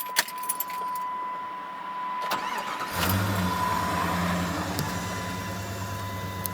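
A 1998 Jeep Grand Cherokee with the 5.9 engine starts up after keys jangle and a faint chime sounds, then settles into a steady, close idle rumble.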